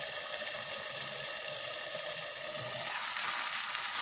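Drumstick leaves fry in oil under a lid, giving a dense, steady hiss that swells slightly louder toward the end, close and continuous with no voices.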